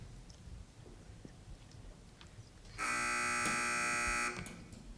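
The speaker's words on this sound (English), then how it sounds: "Teams, wait for the buzzer if you'd like to answer." A quiz competition answer buzzer sounds once, a loud harsh electronic buzz lasting about a second and a half, cutting through a quiet room with faint background noise and no talk.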